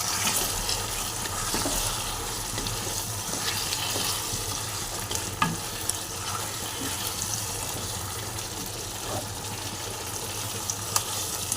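Cashew, poppy seed and green chili paste sizzles in a pan for a chicken curry while being stirred, a dense, steady hiss with occasional scrapes and taps from the spoon, close up and without talk.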